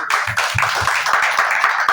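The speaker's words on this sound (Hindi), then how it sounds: "सभी पवित्र आत्मा के लिए ताली बजाएं" A congregation at a Christian sermon claps for the Holy Spirit, a steady patter of hand claps with a few heavier beats, close and fairly loud.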